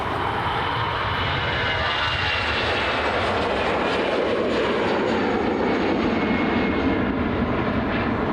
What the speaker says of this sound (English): EI656, this Aer Lingus flight heading over to Frankfurt. It's an Airbus